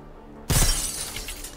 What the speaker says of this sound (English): Window wants to be shot open.